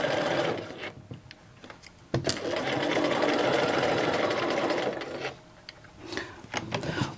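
A sewing machine stitches the 5/8-inch side seam of a hem facing in short, fast bursts, with the longest steady whirring run in the middle, close up and with no one speaking.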